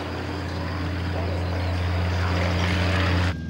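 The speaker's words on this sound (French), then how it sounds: "L'avion est en rotation, c'est parti" An airplane's engines drone steadily and loudly through the takeoff roll to rotation, a sustained hum with a slight rise before cutting off abruptly near the end.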